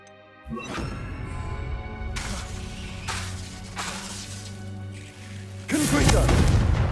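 Casting the Incendio fire spell in the Hogwarts Legacy video game produces a whooshing burst of flame with a crackling roar, followed by a deeper boom as the fire swells, set over a game music bed.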